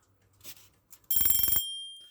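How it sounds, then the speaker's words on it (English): A 1946 Parnall Yate alarm clock with a large bell spanning pillar to pillar rings loudly in a rapid half-second burst of strikes, then the metallic tone hangs and slowly fades. A few faint clicks come just before. "Let's hear the bell again just to be sure."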